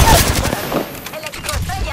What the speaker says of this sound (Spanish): Me disparan, amigos.